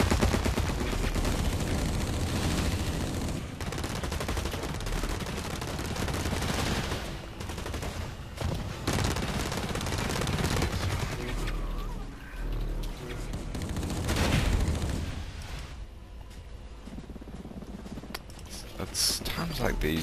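SMG gunfire in the online shooter Blacklight Retribution: dense, rattling bursts of rapid shots from the weapon and nearby combat, continuing throughout under a player talking.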